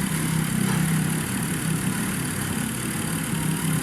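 A tractor engine running steadily nearby in the field, a loud continuous low rumble that stays even throughout.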